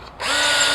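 Power drill with a dull bit spinning up and drilling, a sudden steady high-pitched whine that starts after a brief pause and holds loud and close.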